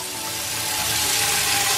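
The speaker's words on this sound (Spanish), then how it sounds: "Llenamos de agua." Water runs steadily into a container being filled to dye sneakers, a continuous broadband rush with a faint tonal ring, close and even throughout.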